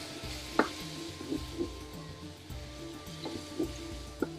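Kashmiri chilli and tandoori spice powders stirred into a hot pan on a double induction cooker, a soft sizzle beneath scattered scrapes and taps of the spoon, close and quiet with no voices.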